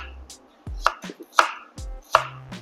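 A knife cuts vegetable slices on a cutting board in a few crisp, separate chops with short gaps between them, close and clear, with no talking.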